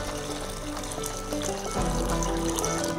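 Full fat milk pours into a saucepan holding syrup, a continuous close trickling gush whose tone shifts partway through as the pan fills, with no speech over it.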